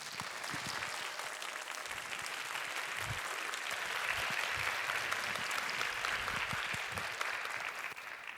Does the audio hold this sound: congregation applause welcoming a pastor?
yes